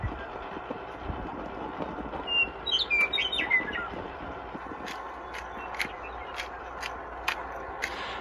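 Bird song from outdoors near a barbecue: scattered high chirps and a short trilling phrase come through faint to moderate over steady background noise and light clatter.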